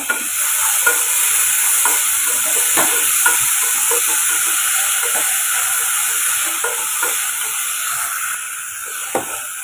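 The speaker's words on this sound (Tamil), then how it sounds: "இது கூட கொஞ்சம் உப்பு ஒரு கால் ஸ்பூன் அளவுக்கு சேர்த்து இதுலையும் வதக்கி வச்சுக்கோங்க" Ripe tomatoes sauté with a quarter spoon of salt in a hot pan, giving a steady close sizzle with intermittent scraping stirs of a spoon, no voices.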